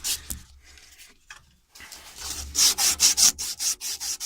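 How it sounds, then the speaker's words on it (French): A weld on a heat pump compressor pipe being sanded by hand: after a few quiet scrapes and a pause, a series of rhythmic rasping strokes, about eight in quick succession, close and moderately loud. "Donc je vais le poncer."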